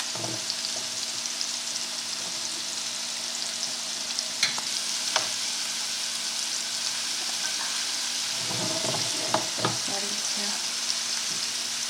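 Scallops sear in a pan of butter and olive oil, giving a steady close sizzle throughout, with a few soft clinks and stirring sounds from a utensil and no talking.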